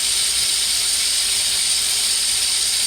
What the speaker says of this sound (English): The one thing I do have is this whisk attachment to the motor part of my wand blender.